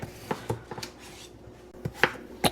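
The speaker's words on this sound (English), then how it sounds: "I wanted to get the pepper cut up before I cut the potatoes up" A knife chops potatoes on a cutting board in a home kitchen, a few quick, crisp knocks spaced irregularly and heard close up with no talking.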